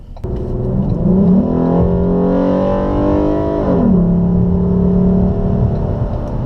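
A 2015 Ford Taurus accelerates to pass on a road, its engine note climbing smoothly then settling, heard loud from inside the cabin with steady road and wind whir.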